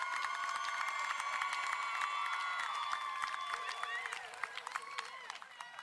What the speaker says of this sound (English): Much bigger applause than I got.